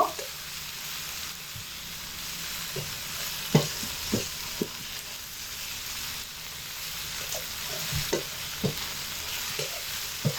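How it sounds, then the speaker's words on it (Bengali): Fried okra sautés with spices in a pan for a coconut vegetarian dish, a steady sizzle broken by irregular scraping and stirring knocks from a spatula, close and moderately loud, with no voices. "ভেন্ডিগুলোকে দিয়ে 1/2 মিনিট সময় কষে নেব"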